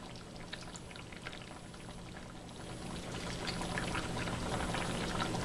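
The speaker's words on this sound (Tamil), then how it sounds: "நம்ம அந்த புளி கரைச்சி வச்சுருக்கோம் இல்லையா அதை ஆட் பண்ணணும் கொஞ்சம்." Tamarind water streams steadily into a pan of simmering mutton curry, a soft continuous pour with light bubbling that grows slightly louder toward the end.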